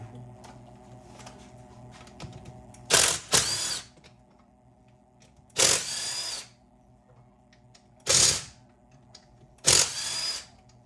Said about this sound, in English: Start pulling off these side screws